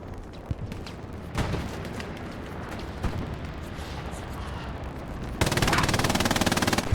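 Video game machine-gun fire from an MG position overlooking a garrison in a competitive match: distant crackling volleys and scattered shots under a dense battle din, then a loud, steady rapid burst near the end.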